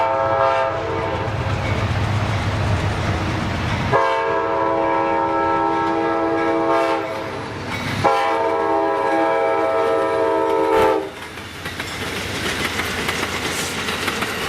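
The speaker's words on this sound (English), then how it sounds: "Now let's watch as this train passes our cameras." The Silver Star passenger train sounds its horn in long, loud blasts as it approaches and rumbles past along the Gulf of Mexico, wheels clacking, then the noise drops away.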